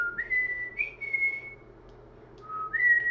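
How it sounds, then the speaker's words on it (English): A person whistles a short tune from a movie, clear and close, with a few held and gliding notes, a brief pause, then another rising phrase. "I guess no one knows what that whistle's"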